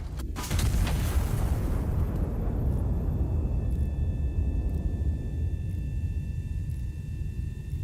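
Explosion from bombing an enemy in a video game: a sharp loud blast followed by a long, deep rolling rumble that slowly decays, with faint tones lingering.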